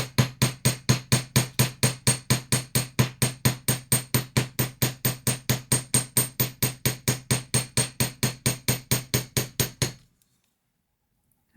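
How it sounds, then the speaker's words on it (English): Steady, rapid goldsmith hammer blows flatten wire on a metal bench block, dozens of evenly spaced ringing strikes for about ten seconds, then stop abruptly. "First I'm just going to hammer it flat a little bit."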